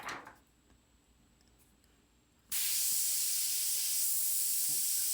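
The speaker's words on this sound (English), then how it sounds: "Spray." After a quiet pause, an airbrush starts spraying paint onto a realistic hawk painting's darker feathers with a loud, steady hiss that continues without a break.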